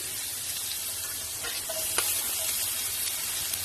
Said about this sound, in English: add some butter and then add some garlic, green chilies